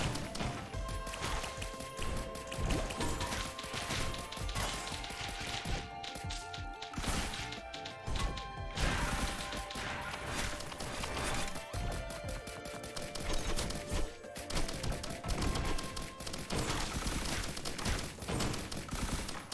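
Rockets fire and explode in the video game Risk of Rain Returns, a dense, constant barrage of blasts, crashes and impacts layered with game music and effects, steady and busy throughout at fairly low level.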